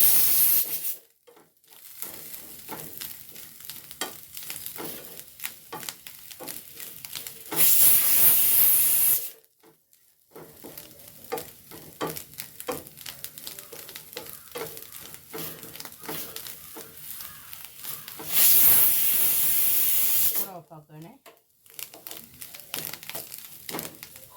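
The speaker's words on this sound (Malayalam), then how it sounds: "ചക്കക്കുരു വിസിലടിക്കുന്നുണ്ട് കുക്കർ അടിക്കുന്നുണ്ട്" A pressure cooker whistles while jackfruit seeds cook on a gas stove. Two long, loud hissing blasts stand out over crackling and stirring noises, with short gaps of near silence.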